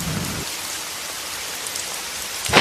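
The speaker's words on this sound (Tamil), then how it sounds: "இப்போ போய் இந்த மழை வந்து இப்படி உயிரை வாங்குது." Steady night rain pours at a village bus stand, a dense, continuous hiss of drops on surfaces, loud and close throughout, with a brief rumble near the start and end.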